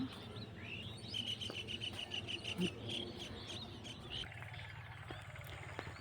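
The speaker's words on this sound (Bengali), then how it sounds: "এত পাখির কলরব এখানে" Birds chirp and trill at dawn in a quiet village setting, a run of repeated high calls in the middle over soft background rumble.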